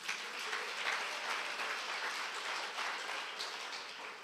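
A church congregation applauds, a broad wash of many hands clapping at a distance, steady and fairly faint, with no talking.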